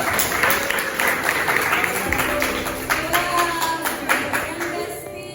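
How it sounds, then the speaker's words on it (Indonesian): Students in a classroom burst into a lively round of applause, dense close clapping sustained for several seconds with some voices mixed in. "kasih aplaus buat ibu"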